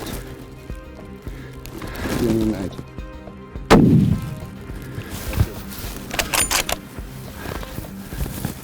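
A single sharp rifle shot cracks out loudly mid-clip during a Cape mountain zebra hunt outdoors, followed by a rumbling echo, with faint rustling and movement around it.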